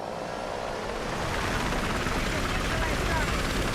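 A Battlefield helicopter's rotor and engine drone steadily and fairly loudly, the wash swelling slightly partway through, with voices present beneath it.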